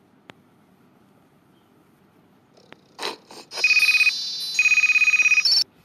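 After a few faint taps in a quiet room, a phone ringtone plays nearby as two bursts of bright, repeating electronic tones separated by a short pause.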